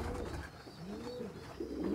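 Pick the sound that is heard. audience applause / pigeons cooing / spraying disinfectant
pigeons cooing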